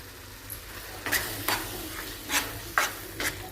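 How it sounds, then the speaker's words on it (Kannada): Pav bhaji mixture with chili powder stirred in a frying pan, soft sizzle beneath about five rhythmic scraping strokes of a spoon, close and without voices. "ಇದನ್ನು ಸ್ವಲ್ಪ ಮಿಕ್ಸ್ ಆಗಂಗೆ ಕಲಿಸ್ಕೊಂಬಿಡೋಣ್ರಿ."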